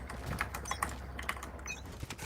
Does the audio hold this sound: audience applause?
no